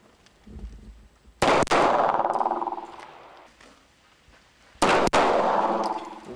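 Two loud rifle shots ring out on a military shooting range at a front-line base, each a sharp broadband crack followed by a long decaying echo, spaced about three and a half seconds apart.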